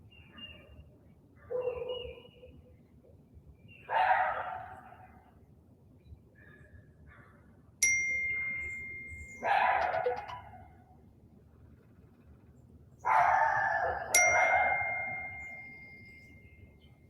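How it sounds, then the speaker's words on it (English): A hand bell signals the end of a calm breathwork session, ringing twice with bright, sustained tones that fade slowly, over a soft background of faint chirps and rustling. "I'll use my bell to bring you back."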